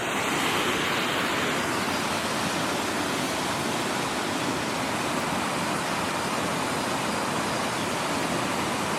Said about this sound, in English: I've got the main waterfall there coming down the bridge